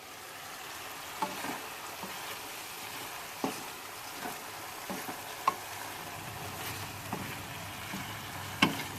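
Snails dry-frying in a pan sizzle softly and continuously, with sharp scraping ticks from stirring breaking in every second or so. No one speaks.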